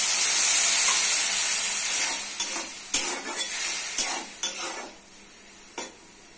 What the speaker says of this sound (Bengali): সয়াবিন মশলাটা ভালো করে কষিয়ে দিচ্ছি।